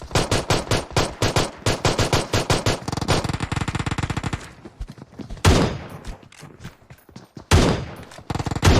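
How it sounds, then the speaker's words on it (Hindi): Winchester rifle gunfire in the Garena Free Fire battle-royale game: rapid loud bursts of shots packed through the first half, then a few heavier isolated blasts with trailing echoes further on, no talking. "मैं विंचेस्टर से मार रहा हूँ।"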